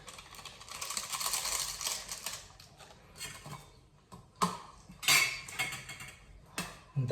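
Maggi noodles are stirred in a pot after the masala packet goes in, giving a faint, irregular scraping and clinking of a utensil against metal, with sharper knocks toward the end and no talking.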